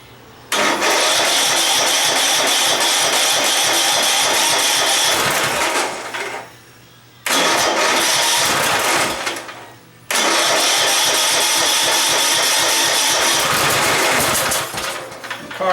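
A 1978 Ariens Fairway riding mower engine with a modified carburetor, flooded before and started without choke, cranks and fires into a loud, rough run that cuts out twice and restarts, running unsteadily with no talk.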